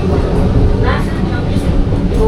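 A Vande Bharat sleeper train on the Howrah to Kamakhya run rolls into Bandel Junction, heard from inside as a loud rumbling rattle with rhythmic clunks, while a voice talks over it.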